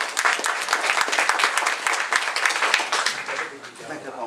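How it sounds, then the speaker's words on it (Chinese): An audience applauds Professor Mao, now in his eighties, at an energy-medicine talk: dense, sustained clapping from many hands that fills the room and slowly thins toward the end. "我们请毛教授帮我们支持一下，好吧？鼓掌。"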